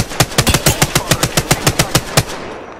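A rapid, evenly spaced burst of about a dozen sharp automatic gunshots rings out in Apex Legends, loud and close, then cuts off into a short fading tail with no talk.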